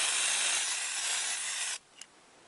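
A 100-yen gold or silver lacquer spray can hisses steadily onto small plastic model kit parts, one continuous close spray that cuts off sharply, followed by a faint click.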